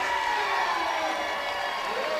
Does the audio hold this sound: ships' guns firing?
no